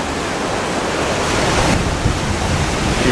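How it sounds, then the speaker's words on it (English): Rough sea and big waves break and roll under a strong, gusting wind near a seal colony, making a loud, continuous roar of surf and wind buffeting the microphone without a break. "in the sea. She's rough. And the big waves are breaking."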